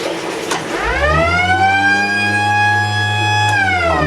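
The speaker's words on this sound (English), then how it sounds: "That's our siren system." A 12-volt battery-powered water-level alarm siren at a pickerel hatchery winds up and holds a loud, steady wailing tone close by, then winds down at the end.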